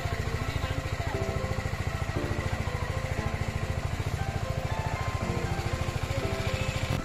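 A BMW G310 R motorcycle engine runs steadily with an even, rapid chug at moderate volume as the bike rides off toward a service centre, with no voices heard.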